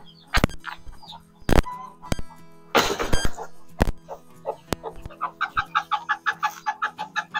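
Farm chickens cluck around a hen and her single chick at morning feeding, with sharp close cackles early on and then a steady run of rhythmic, repeated clucks building toward the end.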